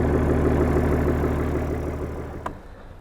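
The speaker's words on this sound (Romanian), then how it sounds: "cum întoarce motorul" A car engine fitted with a turbo and big injectors idles at its first start, giving a loud, steady, close rumble. It fades slightly near the end, where a single sharp click stands out.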